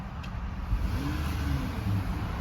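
Engine of a 2025 Jeep Gladiator High Tide with its 3.6 engine, revving against a low rev limiter: a steady, fairly loud, close mid-pitched drone with slight surging, no talking.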